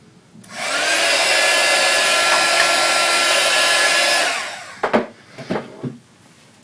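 A hair dryer blows steadily and loudly for a few seconds to dry a layer of craft paint ahead of resist paste, then cuts off, leaving a few light knocks and handling sounds.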